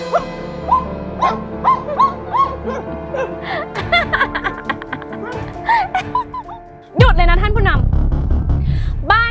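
A person imitates a dog, giving a run of short, high, yelping barks and whimpers in quick bursts, then a sudden loud, noisy shout takes over near the end.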